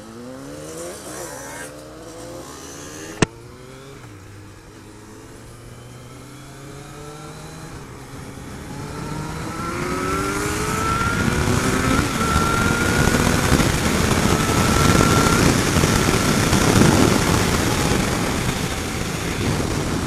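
Motorcycle engines rev and climb in pitch at a motorcycle meet in Arroio do Sal, building to a loud, sustained roar; a single sharp click sounds early on.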